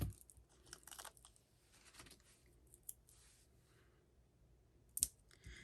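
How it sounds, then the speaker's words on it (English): Scissors snip small dimensional adhesive foam pieces for a paper-craft card, a few faint, sparse clicks and crisp snips close by in a quiet room, with one sharper snip near the end. "So we're going to cut up some more of these dimensionals, make some smaller ones."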